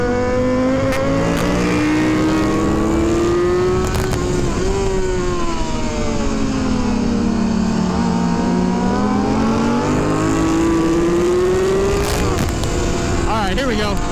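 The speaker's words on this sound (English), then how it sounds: "Like sounds like a big V twin." Big V-twin motorcycle engine on track at a trackday, a loud continuous drone that rises and falls in pitch as it revs, heard close with wind roar and a rider's voice over it.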